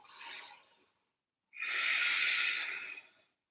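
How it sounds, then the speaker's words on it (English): Breathing during a yoga class, with one short breath followed by a longer, louder exhale of rushing air, both close to the microphone, separated by a moment of silence and with no talking. "Keep breathing."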